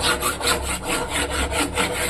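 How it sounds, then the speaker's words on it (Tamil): Wheat flour halwa mixture with sugar being stirred and scraped steadily in a kadai, a rhythmic rough scraping repeating about every quarter second, close and continuous with no talk. "போட்டு நம்ம கை விடாத மிக்ஸ் பண்ணணும்"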